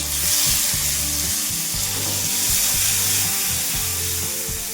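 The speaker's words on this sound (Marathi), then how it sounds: "आपण त्यासोबत भाजून घ्यायचं आणि टोमॅटो टाकायचं आपल्याला." Garlic, ginger and tomato frying in a pan give a steady, close sizzle with a soft hiss throughout, laid under background music with no speech.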